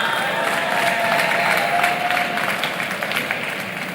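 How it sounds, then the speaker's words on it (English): At an entrepreneurship festival awards session, an audience claps and cheers for an award winner, a sustained crowd roar with whoops and a thin tonal whistle riding above the applause. "Please keep clapping."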